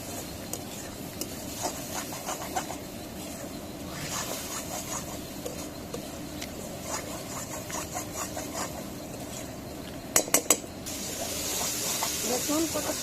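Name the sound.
sautéing spices in a pan, stirring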